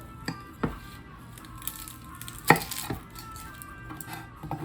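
Knife cutting an onion in half while preparing a succulent roast, giving a few sharp chopping knocks against a cutting board, with one louder crisp chop in the middle amid faint kitchen clatter.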